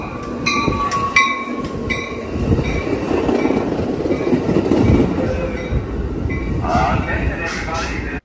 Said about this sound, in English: recording this incoming train